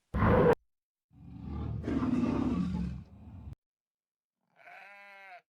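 A lion gives a few roar-like calls: one short sharp burst, then a longer rough growling roar, and later a brief higher bleating cry, all fairly close with silent gaps between.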